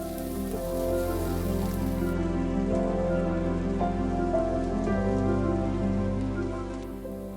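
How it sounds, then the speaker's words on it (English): Arborio rice sautés in a pan with garlic, making a steady crackling sizzle close by that lasts the whole time, over a sustained tonal hum. "Saute for 2 to 3 minutes."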